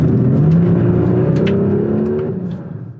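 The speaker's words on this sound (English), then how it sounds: "there is nothing better than a naturally aspirated V12 engine." Ferrari naturally aspirated V12 engine revving hard, a loud, sustained high-pitched wail that holds steady and then eases off near the end, with no voices.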